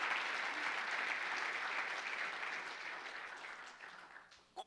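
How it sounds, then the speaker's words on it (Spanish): A church congregation applauds loudly for the Lord in a dense, steady wash of many hands clapping. The applause slowly fades over a few seconds, and a single louder clap sounds at the end. "Dele fuerte el aplauso al Señor"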